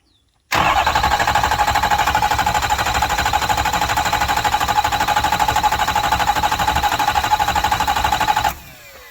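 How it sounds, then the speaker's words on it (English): A 6.0L Power Stroke diesel engine cranks steadily with the starter for about eight seconds, a rapid rhythmic churning that never catches, then cuts off. "put this to the battery and turn it over a little bit"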